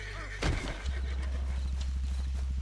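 In the Red Dead Redemption 2 video game, a horse gives a short burst of noise, followed by quick, steady clip-clopping hoofbeats close by.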